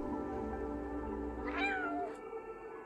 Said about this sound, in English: That purring noise.